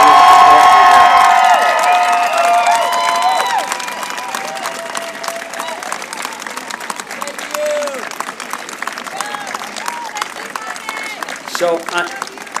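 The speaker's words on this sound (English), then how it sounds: "Could we have a round of applause for your support network?" A convocation crowd bursts into loud applause with cheering and whoops for the graduates' families and support network, a lingering tone fading early, then steady clapping continuing for several seconds.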